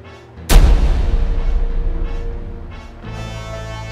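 A new gunpowder weapon fires in a drama sound effect: one sudden loud blast, then a long rumbling decay and a steady roaring burn that carries on to the end.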